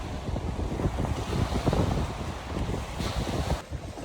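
Gusty wind buffeting the microphone at a lake island campsite, a loud rushing roar that swells and eases, with a faint wash of water behind it.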